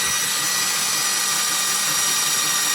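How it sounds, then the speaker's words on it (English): A power drill slowly drilling a pilot hole in metal on a KTM 390 Duke gear lever whines steadily and loudly for a few seconds, a continuous high-pitched grinding buzz with no pauses. "very slowly put a hole through that"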